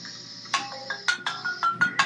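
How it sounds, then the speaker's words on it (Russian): A telephone ringtone plays a repeating electronic melody of short bright tones in clear, evenly spaced bursts, moderately loud, during an online video game session with no talking. "Блядь, телефон звонит."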